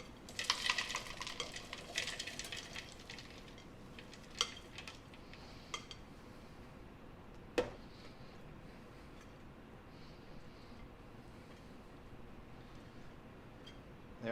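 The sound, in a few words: emptying peanuts, onion, limes and coconut sugar into food processor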